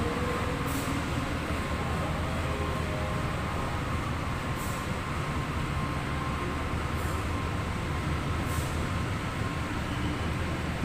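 Whoosh high-speed train arriving at a station after coming in from Tegaluar, a steady loud rumble and rolling rail noise holding for about eleven seconds, with faint brief hiss bursts at intervals and no talk.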